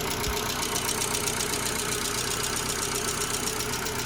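A big-block engine swapped into a Chevy Spark runs steadily at idle, a loud, close, continuous rumble with an even, rough pulse throughout and no talking.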